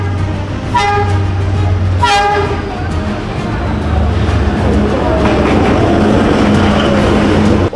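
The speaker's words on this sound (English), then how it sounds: "I was kind of scared the train was gonna hit me because it was so close." A train horn blares twice, loud and near, then the heavy rumble and clatter of rail cars roaring past at very close range in Vietnam continues steadily.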